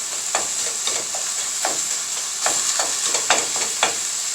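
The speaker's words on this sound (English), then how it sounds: "cook it up the way you would brown any beef" Ground beef and vegetables sizzling in a pan while being stirred, with a steady hiss and scattered scrapes and clicks of a utensil, close and continuous.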